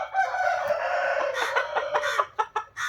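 Peruvian breed rooster crowing nearby at a breeding farm, one long drawn-out call followed by a few shorter broken notes, alone with no talking.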